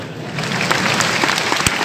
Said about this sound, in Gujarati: પાડો તાળી.